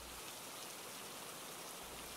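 Rain begins falling outdoors in Washington, a steady soft hiss of drops that runs evenly from start to finish, with no voices heard.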